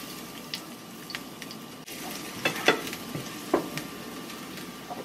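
Garlic frying in leftover bacon fat in a pan, a steady low sizzle with a few brief scraping stirs and small pops, close and moderately loud with no talking.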